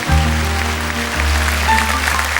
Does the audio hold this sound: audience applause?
yes